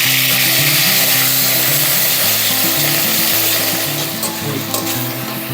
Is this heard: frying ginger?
yes